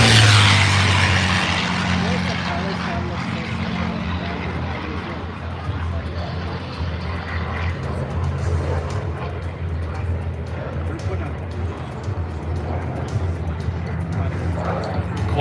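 A P-51 Mustang's engine drones steadily as the warbird flies past during an airshow parade review, loudest at the start and then settling into a sustained roar under faint crowd murmur.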